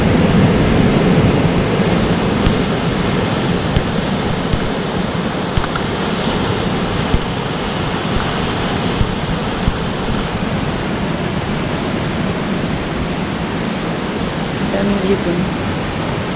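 Ocean waves on the Oregon coast near a campground, a loud continuous roar of surf with wind buffeting the microphone.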